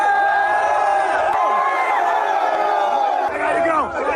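Large crowd cheering, whooping and shouting continuously and loudly, with overlapping voices and occasional rising yells throughout.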